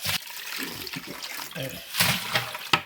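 Water splashes and sloshes while sand is rinsed out of a bucket at an outdoor gold-mining sluice. The pouring and swishing runs throughout at close range, with louder surges near the end.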